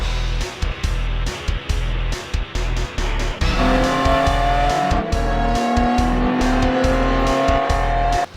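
A BMW M4 GT4 race car drives hard on a track at Thermal Club, its engine roaring loud and close with rising revs, shifting gear notes and brief interruptions throughout.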